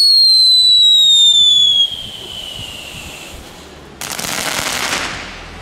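Consumer fireworks from a 125-shot Dutch retail pack going off: a whistling rising rocket tone, then dense rapid crackling bursts, loud and near, with no talk.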